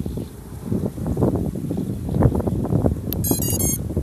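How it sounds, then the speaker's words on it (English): Wind on a breezy day of about 6 or 7 miles per hour with gusts to 11, buffeting the microphone in irregular low rumbling gusts, with a few brief high electronic beeps near the end. "it is a windy day"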